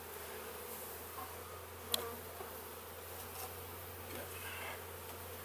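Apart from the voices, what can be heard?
honey bees around a beehive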